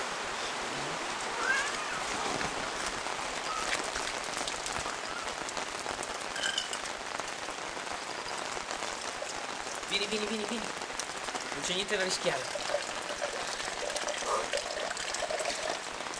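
Steady rain falls on surfaces outdoors while rainwater trickles and splashes from a gutter, a continuous dense wash of drops; someone speaks Italian over it now and then.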